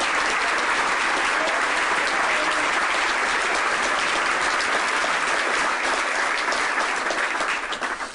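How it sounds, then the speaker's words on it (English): Applause from a club luncheon audience for high school students from three Catholic schools, a dense, steady, loud wash of clapping that holds for several seconds and begins to fade at the end. "Give them all a round of applause."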